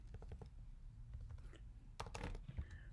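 Quiet keystrokes on a computer keyboard while entering text in Wolfram Mathematica: a quick run of faint clicks, a pause, then a louder burst of taps near the end, close and without talk.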